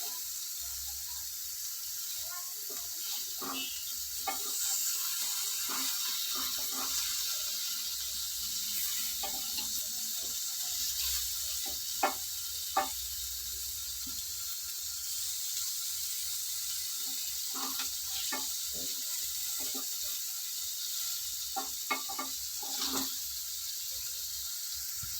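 Paneer pieces sizzle steadily in an oil-filled pan as they are turned to fry the second side, with scattered small clicks and taps of the utensil over a continuous hiss, and no speech.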